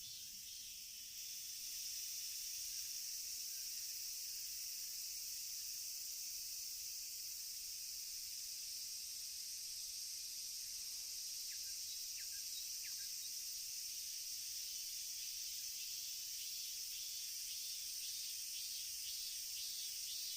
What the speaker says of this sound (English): That's Japanese cicadas